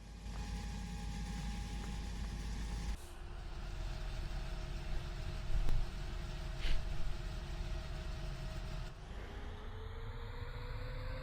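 A tractor engine in the Farming Simulator 15 game on the Sandy Bay map drones steadily, with a shift in pitch and load partway through, a few brief mechanical clunks and a rising tone near the end, no talking.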